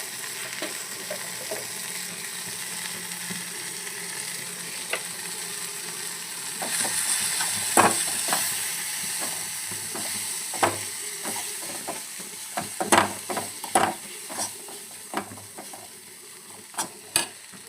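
Cumin, coriander and turmeric powders frying in a pan, a continuous sizzle that grows into sharp scraping stirs and clacks toward the end, close up with no talk.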